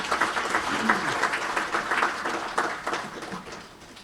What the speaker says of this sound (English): let's give another round of applause to the Honorable Governor